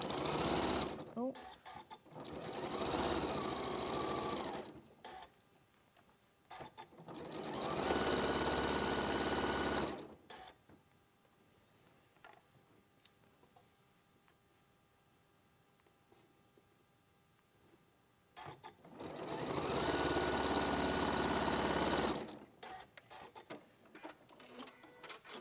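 A sewing machine stitches seams in long, loud, steady bursts that stop and restart, close by, with a quiet voice speaking in the pauses between runs.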